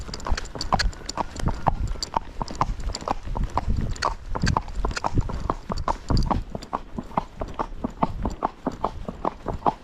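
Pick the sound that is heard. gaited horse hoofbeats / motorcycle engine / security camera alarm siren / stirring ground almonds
gaited horse hoofbeats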